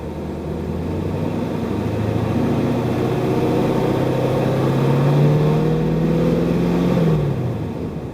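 V8 engine held at a steady elevated rev of about 2,000–3,000 RPM, a loud sustained drone with a slight rise in pitch before dropping back near the end, no talking.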